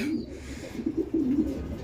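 A pair of silver Lahori pigeons coo in low, rolling calls that repeat steadily and close by, with no voices over them.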